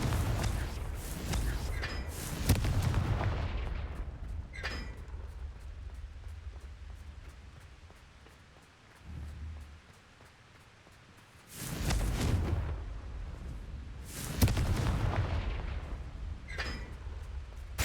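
Confringo fire spells blast in Hogwarts Legacy, several sharp bursts that each bloom into a long crackling roar, with quieter rumbling stretches between the explosions.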